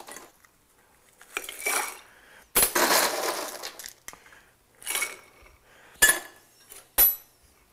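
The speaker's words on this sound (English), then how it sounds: "Now let's add our ice." Ice is added to a cocktail shaker while a whiskey cocktail is made, producing several loud rattling clatters of cubes against metal and glass, close up, separated by short quiet gaps, with no speech.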